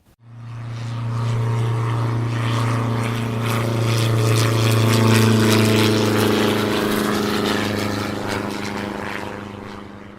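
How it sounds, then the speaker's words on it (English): A small propeller plane drones loudly and steadily overhead across Denali National Park, Alaska, swelling and then easing as it comes down onto Two Moons Lake. "A small plane flies across the Denali National Park in Alaska and lands in the water at Two Moons Lake."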